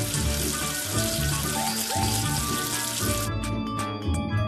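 Water runs and splashes continuously as soap is washed off a number in a kids' educational app game, a steady close rushing sound with small droplet patters near the end.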